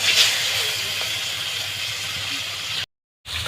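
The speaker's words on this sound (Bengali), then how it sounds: "মাছগুলো আমি ভেজে নেব" Fish pieces fry in hot oil in a wok with a close, steady sizzling hiss that cuts off abruptly near the end, then returns briefly.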